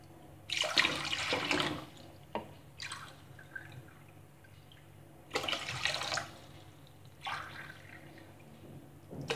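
Water pours into a pot in several separate bursts while syrup for jaggery rasgulla is started, each pour a splashing rush with quieter dripping gaps between them.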